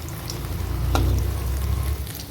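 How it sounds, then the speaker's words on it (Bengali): Bottle gourd pakoras deep frying in hot oil, a steady close sizzle and bubbling throughout with a brief sharper crackle partway through. "এবার সুন্দর করে গোল্ডেন ব্রাউন করে ভাজাটা হবে"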